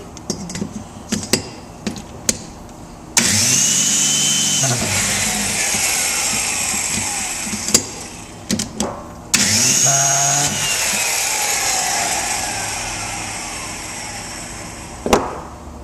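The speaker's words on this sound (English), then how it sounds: "Let me give you a shot of before and after a valve seat grind" A valve seat grinder cuts the engine valve seats of a 1995 Geo Metro in two long, steady whirring runs, close up, separated by a brief pause with a few clanks of handling and no talk.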